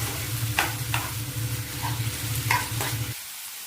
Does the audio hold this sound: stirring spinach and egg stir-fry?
yes